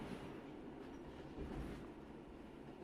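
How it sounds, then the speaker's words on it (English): Quiet train ride ambience in a dating sim video game, a faint steady rumble with light rail clatter and a slight swell midway, no voices. "Sounds like a train."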